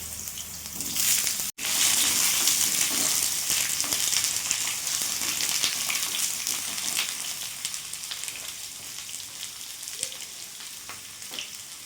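Cut pointed gourd (potol) drops into hot refined oil with a sharp hiss, then sizzles and crackles steadily up close. The frying gradually settles, and a few stirring scrapes sound over it.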